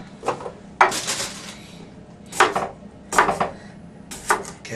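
A knife cuts through potatoes on a kitchen board, making a handful of irregular chopping thunks and scrapes close by. No one talks.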